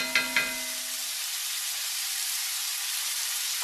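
Onions soften in Spanish olive oil in a big heavy skillet, giving a steady, close sizzle that holds even throughout after a couple of light clinks at the start.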